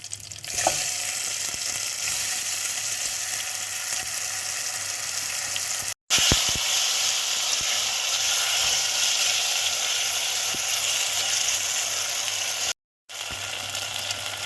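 Dried chillies and other ingredients fry in a pan for a Sri Lankan lunch, a loud continuous sizzle with faint stirring clicks, broken by two brief silent gaps.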